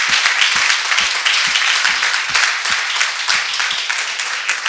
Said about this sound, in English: Let's give a round of applause to all the folks, including our first two panelists.